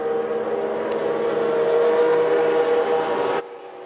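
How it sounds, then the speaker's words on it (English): Vintage race cars at Indianapolis in an SVRA race, including a Chevy Camaro Z28 and a Lotus 7 Series 3, roar together in a loud steady engine drone that holds until it drops off sharply near the end. "Cars transition onto the front straight."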